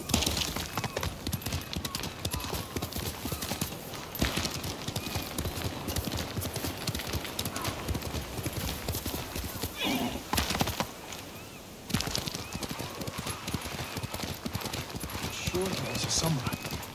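Steady clip-clopping of horse hooves in the video game Ghost of Tsushima runs throughout at a brisk rhythm, with a brief lull partway through, over a dense background.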